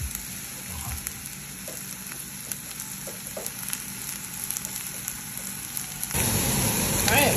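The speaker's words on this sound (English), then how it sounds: "Got these spring onions we're going to saute for just a minute." Spring onions sautéing in oil in a hot stainless steel pan, a soft crackling sizzle with light scraping, swelling into a louder, fuller hiss near the end.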